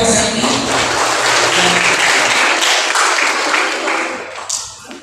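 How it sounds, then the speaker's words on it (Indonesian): Enthusiastic audience clapping at a table manners dining event, a dense continuous burst of applause filling the room before tapering off near the end. "Tepuk tangan dong buat Kak Septi."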